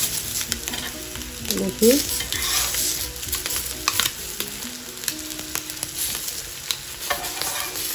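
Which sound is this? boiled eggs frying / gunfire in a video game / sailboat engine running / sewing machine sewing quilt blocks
boiled eggs frying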